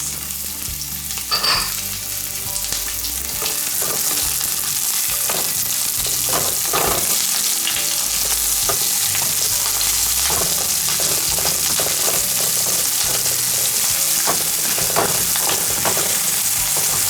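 Onions sauté in a hot pan for chicken Manchurian, a loud, continuous close sizzle broken by repeated scraping stirs and occasional sharp pops, with no talking.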